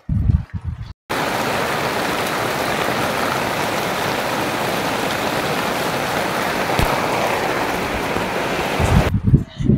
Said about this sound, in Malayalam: രാവിലെ നല്ല മഴ പെയ്തുകൊണ്ടിരിക്കുക തന്നെയാണ് കേട്ടോ.